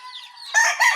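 Chickens at a small backyard coop where a black hen has newly hatched chicks: thin high peeping first, then a louder, brief burst of clucking or crowing close by.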